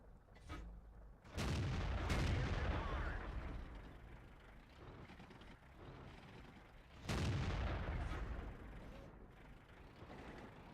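A Centurion I tank's main gun fires twice in World of Tanks on the Pearl River map, each deep booming shot followed by a rumbling tail, separated by several seconds of mechanical clanking and engine hum.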